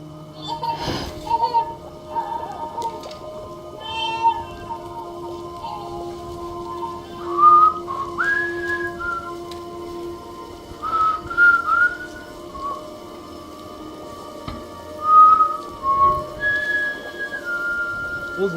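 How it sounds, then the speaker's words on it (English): Melodic whistling from a character in the video game Death Stranding, several short tuneful phrases repeating over about eighteen seconds against a steady ambient game soundscape with faint rain-like texture. "Who's whistling?"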